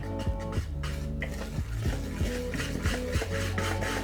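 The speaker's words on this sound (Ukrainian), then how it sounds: "до борошна потрібно присіяти какао, а також додати сюди розпушувач та перемішуємо це все" Flour being stirred together with sifted cocoa powder and baking powder for a chocolate cheesecake dough: repeated scraping and clinking of a utensil against a bowl in an irregular rhythm, close and fairly loud, with no talking.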